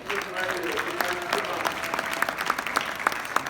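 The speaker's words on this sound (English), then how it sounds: "Give him a round of applause." Steady applause from a crowd, dense clapping filling the whole stretch with a few sharper claps standing out.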